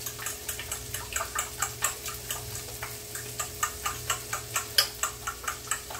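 Eggs being whisked by hand in a bowl with a fork, a steady run of quick light taps against the bowl at a brisk even rhythm, fairly close, with no talk over it.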